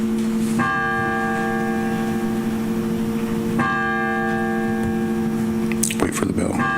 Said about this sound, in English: Wait for the bell.